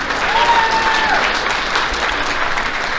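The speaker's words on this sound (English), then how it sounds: "Let's give that a round of applause." Audience at a school athletic banquet applauds the boys golf team, a dense, steady wash of clapping from a full room that holds strong for three seconds, with a brief tonal squeak early on.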